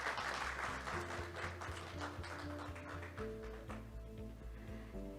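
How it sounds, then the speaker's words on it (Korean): Audience applause for a lawmaker at a business ESG forum, a steady wash of clapping with a low tonal hum running beneath it throughout. "김성주 의원님께 큰 박수 부탁드립니다."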